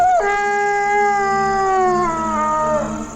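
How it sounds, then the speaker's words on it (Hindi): A dog howls in a long, steady, wavering tone that holds for about three seconds and then tails off, close and loud, in a Hindi-dubbed South Indian action movie. "जब मैंने आप लोगों से पूछा तब ये कुत्ते की आवाज मुझे कैसे सुनाई दी?"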